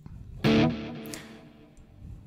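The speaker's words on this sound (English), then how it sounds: "As you can hear, it's kind of a tape delay or analog delay." An electric guitar played through two single-coil pickups with medium distortion and a slight tape- or analog-style delay strikes one quiet chord. The chord fades into soft, decaying echoes.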